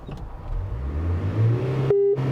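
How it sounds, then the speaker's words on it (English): A Renault Master 2.2 dCi van diesel engine, suffering a loss of power, revs up from a low rumble to a higher growl and then falls back, close and loud with a brief clatter near the end. "Now, let's see what it revs up like."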